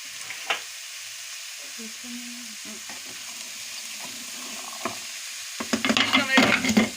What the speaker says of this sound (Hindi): अच्छी तरह से हिला लेना है इसको, और इसको ढक देना है 2 मिनट के लिए